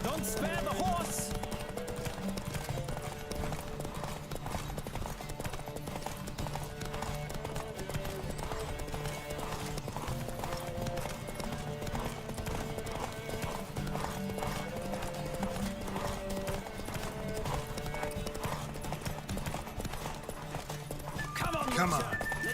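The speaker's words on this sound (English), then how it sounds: "Don't spare the horse!" A horse gallops in The Witcher 3 video game, steady hoofbeats running continuously beneath game music and a rider's voice, with a brief whinny near the end.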